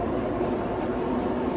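An airport tram rumbling along its track, a steady, close, broadband roar with a low rolling drone that holds evenly throughout, with no talking.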